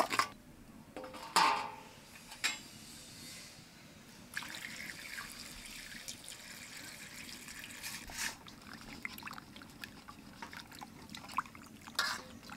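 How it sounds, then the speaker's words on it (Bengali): Stingray fish being washed under cold running water, with trickling and splashing alongside occasional clinks of a metal pot or utensils, fairly quiet and close. "এইবার ঠান্ডা জলটা ধুয়ে নেব।"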